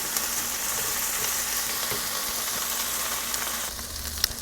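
Peppers cooking down in a pan to go with steak and tortellini, giving a steady, close sizzle and frying hiss that runs unbroken and fairly loud, with faint stirring scrapes and no talk.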